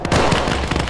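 Gunfire in a World War 2 battle game: dense overlapping crackling shots and pops in a short, loud, busy burst with no pauses.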